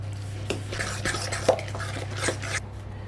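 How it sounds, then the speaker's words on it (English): Soy milk being mixed into a vegan batter in a mixing bowl makes brisk, irregular stirring scrapes and light clinks of the utensil against the bowl, close and moderately loud, with no talking. "And let's just start off with 1 cup of our soy milk. And give it a good mix."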